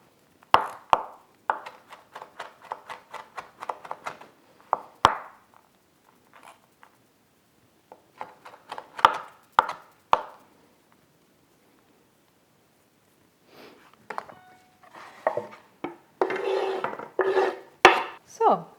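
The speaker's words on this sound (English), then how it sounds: "So I cut these into smaller pieces and put them with everything else in the oven to dry." Fresh vegetables are chopped into smaller pieces for homemade instant broth, with clusters of sharp knife taps on a board followed by louder handling and clattering near the end, close and with no talk.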